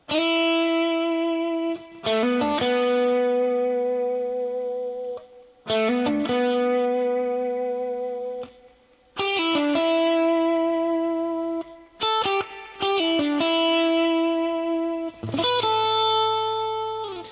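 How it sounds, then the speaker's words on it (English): An electric guitar with overdrive and reverb plays ringing phrases, single notes and slides, with sustained tones fading into a reverberant tail. "he's got a really nice amount of reverb on his tone, and he's got a lot of distortion."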